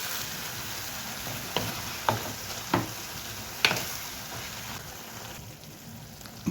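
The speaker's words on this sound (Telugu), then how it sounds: "కొంచెం చిన్న బెల్లం ముక్క వేసుకొని" Ingredients with a small piece of jaggery fry in a pan for cucumber chutney, a steady soft sizzle broken by a few sharp scraping clicks as a spoon stirs them.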